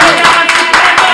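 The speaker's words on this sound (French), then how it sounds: "Est-ce qu'on peut applaudir, s'il vous plaît?" A press-conference crowd claps in a short, loud, close burst of dense hand claps that pulses in a few waves.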